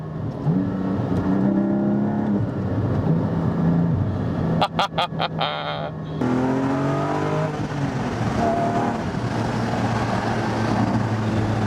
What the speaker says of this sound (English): When you put your foot into change gear and the revs drop, that's when it burbles.